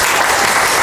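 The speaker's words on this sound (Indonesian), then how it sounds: "beri tepuk tangan dulu untuk temannya" A brief, close burst of classroom applause as students clap for a classmate in a madrasah math lesson, dense and loud throughout.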